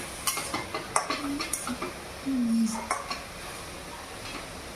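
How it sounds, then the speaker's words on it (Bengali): Turmeric being stirred into gourd pieces in a pan, with a spoon scraping and clinking against the metal at an irregular rhythm, a couple of brief squeaky scrapes, and a faint sizzle underneath. "একটু নেড়ে চেড়ে নিই।"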